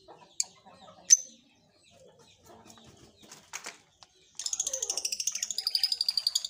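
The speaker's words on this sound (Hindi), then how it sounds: "ये हमारे पास ऑस्ट्रेलियन तोते ने" Australian parrots kept in a cage chirp in a fast, steady string of bright, repeated calls that starts after a few quiet seconds of faint knocks and rustles.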